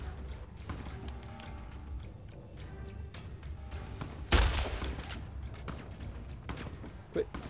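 A single sharp gunshot cracks out midway in Fallout New Vegas, against a low rumbling game background with faint voices around it.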